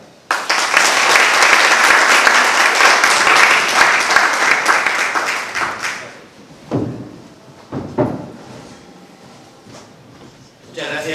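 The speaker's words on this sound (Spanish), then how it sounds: "Un aplauso para él." An audience applauds at a poetry forum in a casino hall, the clapping dense and loud for about six seconds before it thins out into a few scattered thumps and faint room noise.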